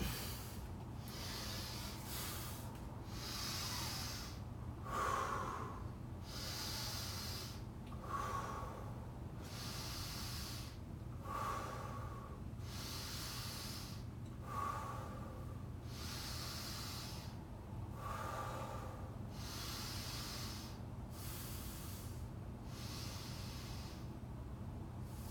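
Slow, rhythmic deep breaths during a guided breathing exercise, each inhale and exhale a soft airy hiss repeating at a steady pace, close and quiet, with no talking.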